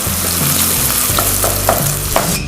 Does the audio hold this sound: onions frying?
yes